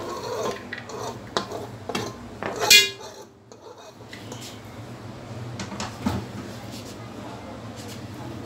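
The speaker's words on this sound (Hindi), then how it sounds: "ये इसमें मैं ये मसाला लहसुन प्याज डालने लगी हूँ" Garlic, onion and spice mix tipped into a cooking pot, with metallic clinks and scrapes of a utensil against the pot, one louder clatter early on, then quieter rubbing and stirring while someone talks.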